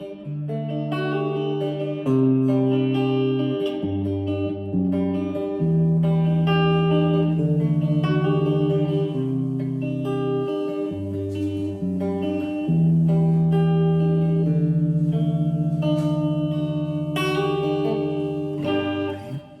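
Electric guitar played through an amp, sustained notes and chords with a washy reverb tail, a slow melodic line over about twenty seconds.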